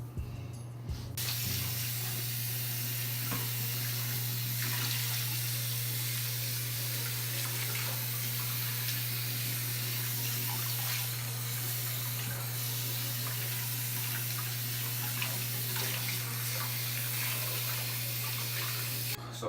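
Water runs steadily for about twenty seconds while shampoo is rinsed out of curly hair, a continuous close hiss and splash with no talking.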